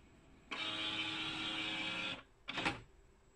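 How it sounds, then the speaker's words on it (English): An HP OfficeJet Pro 8022 inkjet printer prints an alignment page, giving a steady mechanical whir for under two seconds, then a brief separate whirring burst as the sheet feeds out, close by and without talk. "The printer has aligned successfully and it's now calibrated, so we can recycle or discard the alignment page"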